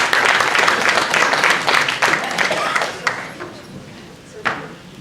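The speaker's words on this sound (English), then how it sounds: "let's give applause to Mayor Maria Sachs." Meeting audience applauds a mayor being introduced, a dense burst of many hands clapping that starts strong and gradually thins out over several seconds, with a few scattered claps at the end.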